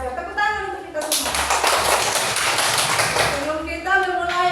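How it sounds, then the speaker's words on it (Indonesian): Children in a classroom clap their hands together in a burst of about two seconds of dense clapping, with a teacher's voice speaking before and after. "Tepuk tangan untuk kita semua."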